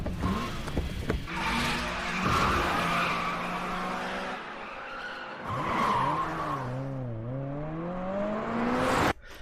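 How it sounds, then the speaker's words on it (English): Anime race car drifting through mountain corners in MF Ghost, with long, loud tire squeals rising and bending in pitch over engine roar, two sustained skids close up, then a sudden cut. "that's a lot of drifts coming out of Kanata's 8-6 right there"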